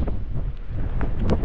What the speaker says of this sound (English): It's windy, it really is.